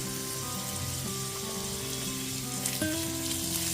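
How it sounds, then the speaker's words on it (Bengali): Chopped carrot sizzles steadily in a frying pan, stirred now and then, with a soft scrape partway through, cooking as the base for a white sauce pasta. "গাজর কুচিটা দিয়ে দেওয়ার পর একটুখানি নাড়াচাড়া করে নিচ্ছি"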